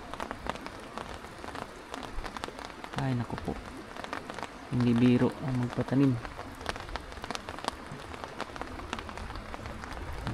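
Heavy rain pours steadily across a cornfield during a typhoon, a dense hiss of drops on the surface, with people talking over it and a brief burst of voices midway.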